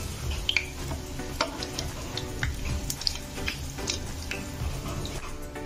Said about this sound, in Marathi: ते व्यवस्थित दोन्ही बाजूने मी ब्रेड फ्राय करून घेतलेला आहे